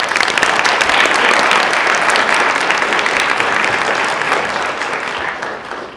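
Enthusiastic applause from an audience at a high school Poetry Out Loud recitation event, dense and sustained throughout before tapering slightly at the end.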